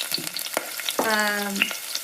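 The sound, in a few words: egg frying in oil in a frying pan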